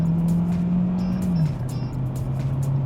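Hyundai Tucson Hybrid with a 1.6-litre turbo engine accelerating in sport mode, heard from inside the cabin as a steady, loud engine drone that drops slightly in pitch midway, without speech.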